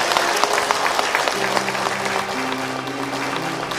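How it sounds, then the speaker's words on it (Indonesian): An audience at a religious lecture claps together in a dense, steady round of applause that carries on throughout, fairly loud and close, with a few voices murmuring underneath. "Tepuk tangan dulu, Bu."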